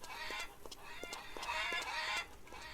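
Hens cluck and chatter in a farmyard coop in the Farmer's Dynasty video game, a fairly continuous stream of short clucks and squawks, close and moderately loud.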